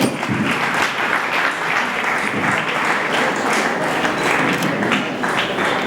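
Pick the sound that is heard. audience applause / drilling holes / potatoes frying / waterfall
audience applause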